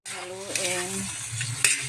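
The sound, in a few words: stirring bitter gourd and egg frying in a pan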